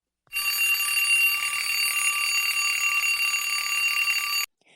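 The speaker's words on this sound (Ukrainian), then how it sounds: "Послухайте, малята, ось як співає будильник." A bright, continuous electric alarm clock bell rings loudly for about four seconds, then stops abruptly.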